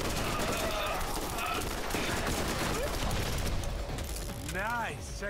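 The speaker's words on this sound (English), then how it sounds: "Is every freaking assault rifle here burst fire?" Bursts of assault rifle fire ring out in Borderlands, a series of sharp, rapid cracks in short groups mixed with mechanical clatter and other game effects, loud and close.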